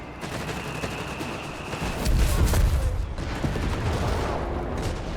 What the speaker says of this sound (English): Artillery called in.